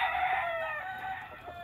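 A rooster crows once, close and fairly loud, a bright strained call that falls away at the end over a quiet rural background.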